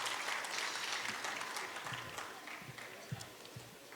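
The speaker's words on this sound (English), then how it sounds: "let's give them the biggest round of applause" An audience at a Nepali film award ceremony applauds in a dense, sustained wash of clapping that fills the hall and slowly thins out, with a few murmured voices underneath.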